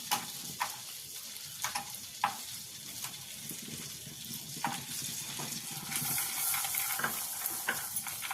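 Cashews sizzle softly in butter in a pan over low heat while being prepared for carrot halwa, a steady frying hiss broken by occasional clinks and taps of a spoon stirring against the pan.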